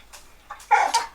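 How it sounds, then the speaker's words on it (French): Small dog getting agitated nearby, a few short yips and whiny barks in a quick burst, close and moderately loud with no talking. "désolé pour le toutou, là, il s'énerve à côté"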